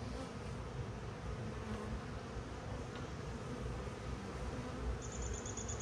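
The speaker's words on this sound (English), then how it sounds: "A lot of bees in here." Many honeybees hum from an opened hive box during a routine inspection, a steady, close, dense drone that holds unbroken throughout.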